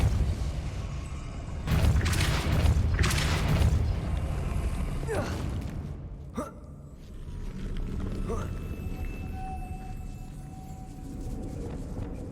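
The Depulso spell is cast in the video game Hogwarts Legacy, a few booming blasts followed by a sharp crack and fading mechanical sounds, with a voice calling out over it.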